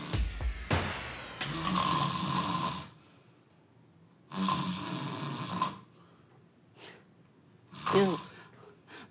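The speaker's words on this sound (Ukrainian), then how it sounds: "ще й хропе, як кінь" A man snores loudly in three long rasping bursts separated by quiet pauses, with a sharp snort at the end, close up and with no talk.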